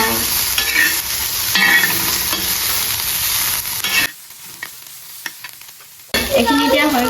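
Meat frying and being stirred in a pan, with a loud, steady sizzle and scraping stirs that drop away for about two seconds, then resume.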